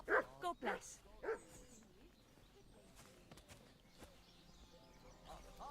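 A few sharp dog barks in quick succession at the start, then quieter ambient sounds and light footsteps with faint talk, in the video game Kingdom Come: Deliverance II.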